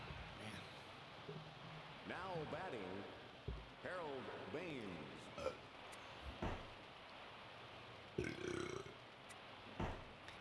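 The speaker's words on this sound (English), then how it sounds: "Got the beer burps." Several drawn-out, croaky burps after drinking beer, some stretched into voiced rumbles, spaced across the stretch with short gaps and a few knocks and rustles between them.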